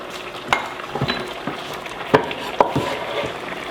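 A spoon stirs tomato lecho sauce in a pot with scraping and light clinks against the metal, a few knocks spread irregularly over a soft simmering sizzle, heard close up.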